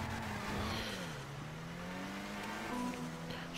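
A Zion Classic car in GTA 5 Online revs hard while drifting, its engine tone rising and dipping under strain. The sound is steady, close and fairly quiet, with no talking over it.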